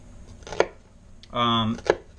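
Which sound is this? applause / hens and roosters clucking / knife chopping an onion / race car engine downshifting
knife chopping an onion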